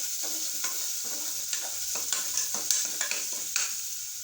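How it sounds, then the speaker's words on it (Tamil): Onions being sautéed in a pressure cooker for an instant curry, a close steady sizzle broken by repeated scraping stirs of a spoon against the pot, with no talk. "நல்லா வதக்கணும்."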